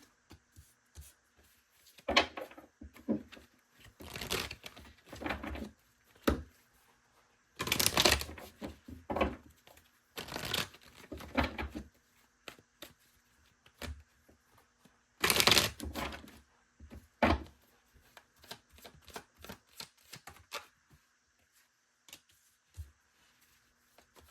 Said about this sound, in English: I'm not even shuffling properly.